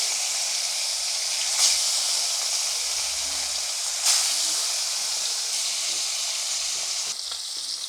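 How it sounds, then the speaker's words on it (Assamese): Fish frying in hot mustard oil in a wok, a continuous bright sizzle and hiss with brief louder spatters now and then, heard close up without talk. "মোৰ কেৰাহী গৰম হৈ গৈছে, মই কেৰাহীত সৰিয়হ তেল দি দিছোঁ আৰু এতিয়া মই মাছখিনি ভাজি ল'ম"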